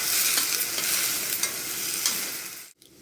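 Onions, chilies and spinach for a curry sizzling and frying steadily in a pan, a dense continuous crackle with stirring scrapes, close and loud, with no talk.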